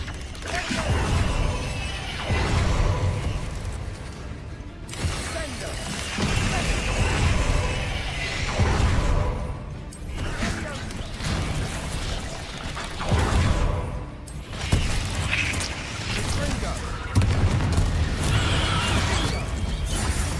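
Bombarda spell blasts in Hogwarts Legacy, loud bursts and crashing debris repeating every few seconds across a busy, dense game soundscape.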